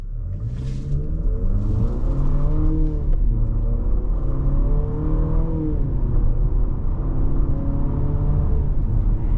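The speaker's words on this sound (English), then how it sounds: "we're going to feather in the gas because we have a new VC turbo engine" A 2025 Infiniti QX60 AWD with a VC-Turbo engine accelerates steadily, its rising harmonic whine climbing in pitch over a constant low rumble, heard from inside the cabin without pause.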